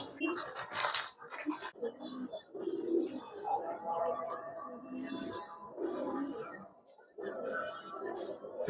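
Giribaz pigeons of the Palla line coo softly in a loft, low murmuring calls repeating steadily while people talk nearby, with a brief burst of fluttering noise near the start.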